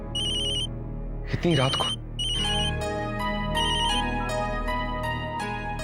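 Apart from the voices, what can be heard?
telephone ringing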